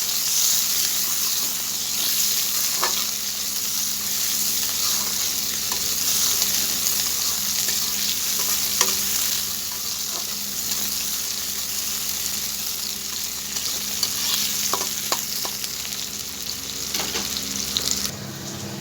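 Chopped onions fry in hot oil for a fish recipe, giving a steady close sizzle with occasional scraping stirs and light clicks against the pan, and no talking.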